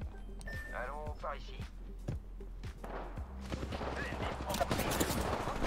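Gunfire in the battle game Apex Legends, a series of sharp repeated shots building into rapid bursts toward the end, with a voice calling out over the action and footstep-like thuds earlier.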